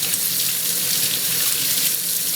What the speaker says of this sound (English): And we rinse.